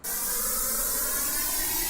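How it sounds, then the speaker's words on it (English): A dense, loud rush of broadband noise starts abruptly and holds steady, roaring like a jet engine. "Like a jet engine taking off"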